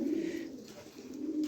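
Pigeons for sale coo softly nearby, a low, rolling throaty call repeating twice in quick succession against quiet surroundings.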